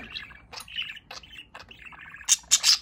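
A pet budgie parakeet chirps and warbles in short, repeated bursts close to the listener, ending in a few louder, shriller calls.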